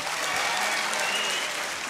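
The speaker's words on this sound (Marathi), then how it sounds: "एकदा जोरदार टाळ्या होऊ द्या स्वतःसाठी." An audience claps vigorously and continuously at a student guidance event marking a birthday, a thick wash of even applause lasting the whole short moment.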